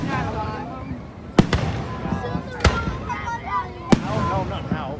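Fourth of July fireworks bursting outdoors, three sharp loud booms spaced over a few seconds amid crackling, with people talking and a crowd murmuring throughout.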